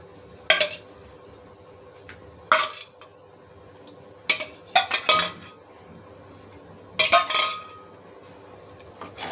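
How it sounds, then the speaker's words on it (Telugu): A spoon stirs egg curry (egg chaaru) in a metal pot, giving several clanking scrapes and clinks at irregular intervals, some in quick pairs, close and fairly loud with no talk. "ఒకసారి కలుపుదాం."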